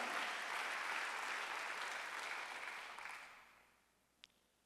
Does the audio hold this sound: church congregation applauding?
yes